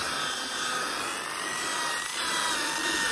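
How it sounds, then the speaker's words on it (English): A brush scrubs cleaning chemical into the fabric of a fixed-cushion sofa, a continuous close, dense rasping swish with no breaks and no voices. "So this is agitating the chemical through the fibres,"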